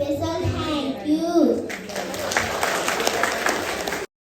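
A graduation day programme ends in applause: children's voices and chatter come first, then a dense burst of clapping from the gathered crowd that cuts off abruptly.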